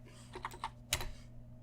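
Typing on a computer keyboard close to a microphone, a few quick, quiet keystrokes ending in one sharper tap against a low electrical hum.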